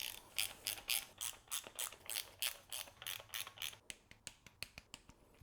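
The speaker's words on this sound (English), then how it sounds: "Going to run in the nuts real quick and then torque them down to 10 Newton meters as well." A hand ratchet runs nuts onto a BMW E36 M3 engine during a refresh, giving a close, rapid series of sharp metallic clicks in short bursts that quicken toward the end.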